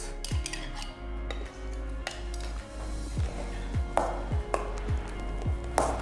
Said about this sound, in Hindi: मैं इसके अंदर डालूंगा क्रीम चीज़, थोड़ा सा करूंगा इसको मिक्स